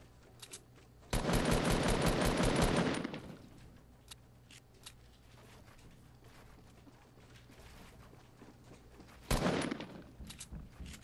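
Two bursts of rapid automatic gunfire in Fortnite, a loud sustained volley of about two seconds followed much later by a shorter burst, with quieter game ambience between.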